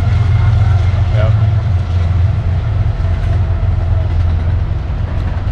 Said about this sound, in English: I was a little worried about the trains, but actually that's very much tolerable.